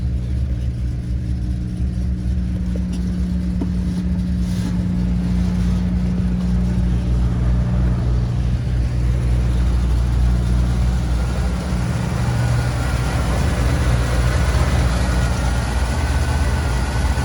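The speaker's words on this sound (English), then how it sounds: "we will fire it up, and then we will drive it around the block, so you could, hear it run" A 1973 Pontiac Bonneville engine idles and runs steadily, a deep continuous rumble with a rough low throb, loud and close, no voices.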